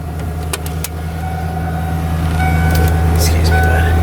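A car engine idles smoothly and steadily just after a cold start, with a slight exhaust flutter, a steady low hum throughout and faint clicks on top, fairly close.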